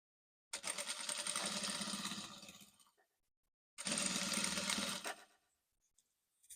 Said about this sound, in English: So I'm top stitching on it to make it relax.